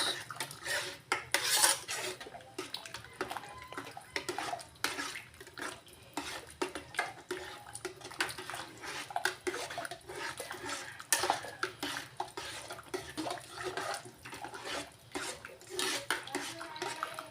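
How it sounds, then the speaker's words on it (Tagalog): A spoon clinks and scrapes steadily against a metal pot while an egg is stirred into lomi noodle soup made with Pansit Bato noodles, a close, busy rhythm of metallic taps with faint watery swirling. "Halo lang para di magbuo yung egg natin."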